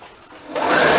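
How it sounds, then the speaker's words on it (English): A sewing machine stitches a rag quilt tote, starting up partway through and settling into a steady, close mechanical whir. "we'll go ahead and stitch a little."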